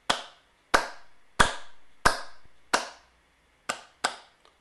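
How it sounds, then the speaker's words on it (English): Eight sharp hand claps, spaced irregularly in a musical rhythm matching the second line of Beethoven's Ode to Joy, each clap crisp and close with a short ringing tail in a quiet room. "If I clap the second line,"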